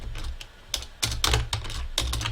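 Computer keyboard being typed on at a desk, irregular bursts of close, clicky keystrokes with short pauses between runs, and no voices.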